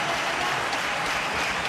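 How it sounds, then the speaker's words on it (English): Cricket crowd at Sharjah applauding Saeed Anwar's fifty during a 1997 India versus Pakistan match, a dense, steady wash of clapping that fills the whole moment without a break. "Yes, he deserves the applause."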